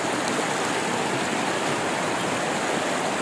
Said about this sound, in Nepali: This is the water. This is called Tawa Khola.